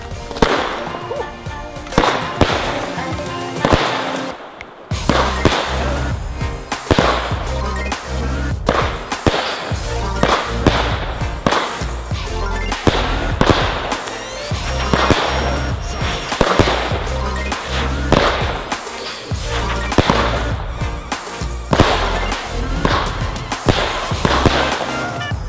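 A Tornada fireworks cake fires rapid, loud bangs and crackles in a relentless rhythmic barrage that runs on for many seconds.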